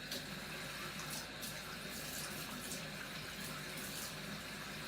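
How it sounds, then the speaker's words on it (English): Very hot tap water pours into a cup as a steady, hissing stream, filling the space with constant splashing noise at moderate level and no speech. "we're going to fill up our bottom cup with some very hot from the tap water"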